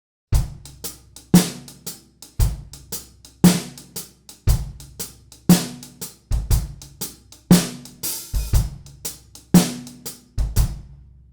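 A drum kit plays a half-time shuffle groove, with a steady repeating pattern of kick, snare backbeats and busy hi-hat strokes, loud and close with no talking.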